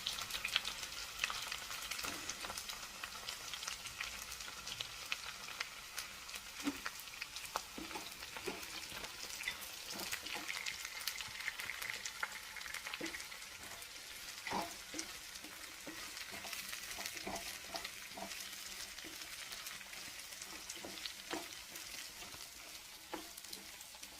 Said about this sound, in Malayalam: ഈ കട്ട് ചെയ്ത് വെച്ചേക്കുന്ന ചക്ക ഇതിലോട്ട് ഇട്ട് കൊടുത്തൊന്ന് ചെറുതായിട്ട് ഫ്രൈ ചെയ്യണം